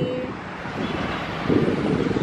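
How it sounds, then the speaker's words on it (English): Wind gusts outdoors on a hot day by a roadside while waiting for a cab. The steady, broad rush buffets the microphone and swells louder near the end, with no one speaking. "It's quite hot, but the wind is very nice."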